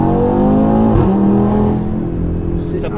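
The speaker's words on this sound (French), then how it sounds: "Là la voiture elle part vraiment en propulsion" A 2023 Audi RS3 8Y accelerates hard, its engine roaring loud and close with pitch climbing then easing off, while people talk over it.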